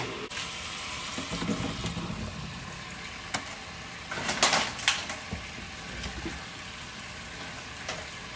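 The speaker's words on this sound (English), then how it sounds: "I have 2 packs of grape tomatoes, and I'm gonna rinse those" Grape tomatoes rinsed under running kitchen tap water, a soft continuous splashing stream with a few brief louder spatters midway, close and fairly quiet, no voices.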